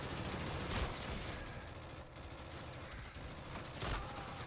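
Rapid gunfire from a VPR rifle with FMJ rounds in Call of Duty: Infinite Warfare, a dense sustained burst with no recoil pauses, loud and continuous with brief peaks.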